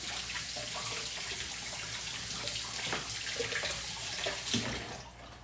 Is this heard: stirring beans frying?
no